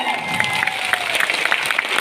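An audience at a Thai event claps along, lively and fairly close, with a few brighter cheers and shouts popping out of the steady clapping.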